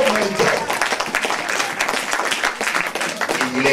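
Applause from a church congregation during a sermon, dense and steady for several seconds with voices mixed in.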